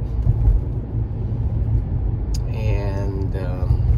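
Steady low road rumble fills the cabin of a car cruising along Congress Avenue in New Haven, with a constant engine and tire drone and a voice speaking briefly toward the end.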